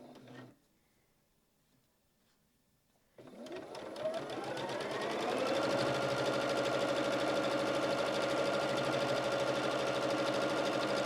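A sewing machine stitches quilt blocks for a Biscotti quilt, starting after a few seconds of near silence and then running as a loud, steady, continuous whir to the end.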